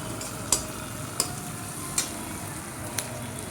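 Spices being stirred in a frying pan on the stove, with a soft continuous sizzle under several sharp clinks of a spoon against the pan, spaced about a second apart.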